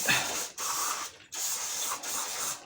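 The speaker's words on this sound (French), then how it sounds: "Je vais mettre un coup quand même de dégraissant." Degreaser sprays onto engine parts of a 1991 Honda CR 250 R motorcycle in three close, hissing bursts separated by short pauses.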